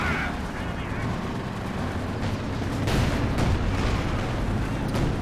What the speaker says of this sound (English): Some howitzer fire coming in this region.